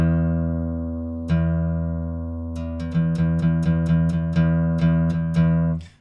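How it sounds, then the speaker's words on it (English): A single low open guitar string rings sustained, then is plucked again several times in a steady series of close, clear notes with nothing else heard. "And the low E, the lowest, thickest string."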